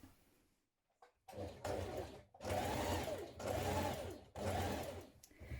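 A domestic sewing machine edge stitches around a shirt pocket in four steady bursts of whirring stitching, close and loud, separated by short pauses, with no talking.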